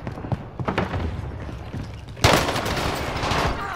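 Gunfire in Call of Duty Warzone on Rebirth Island: a rapid fusillade of close, loud automatic shots that thickens into a denser burst partway through, with a player's voice mixed in.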